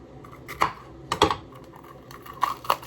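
Knife cutting through a red bell pepper on a board, three or four sharp, crisp cuts spaced irregularly, close and clear with no talk.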